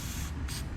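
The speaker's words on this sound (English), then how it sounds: "I just end up using some 3M spray adhesive just to kind of go along the edges" A short hissing burst of 3M spray adhesive is sprayed along the edges of a DIY kayak keel guard, a close, steady aerosol spray with a slight break in the middle.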